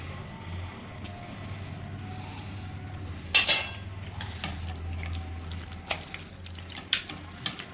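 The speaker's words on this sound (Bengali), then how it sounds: "সেই তেলটা হাতায় করে তুলে এটা আমরা দিয়ে দিচ্ছি উপর থেকে সামান্য পরিমাণ, দিয়ে এটাকে ভালো করে এর সাথে মিক্স করে নেব" A ladle works fried-onion oil into marinated mutton for biryani, making a few sharp metallic clinks and scrapes against the pot over a low background hum, close and sparse, with no talking.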